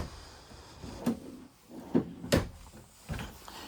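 Several wooden knocks and slides, like a drawer being pulled open and pushed shut a few times in a 2026 Keystone Cougar 320RDS travel trailer, over a faint background hiss.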